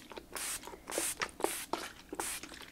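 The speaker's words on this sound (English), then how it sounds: "I'm going to move my pastels aside because I want to spray a layer of the fixative." Several short bursts of aerosol pastel fixative spray hiss in quick succession, close by, with brief pauses between them.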